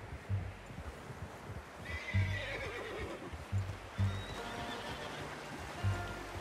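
Horse in the video game Red Dead Redemption 2 gives a drawn-out neigh while its hooves clop in a steady, regular rhythm, with running water faintly in the background.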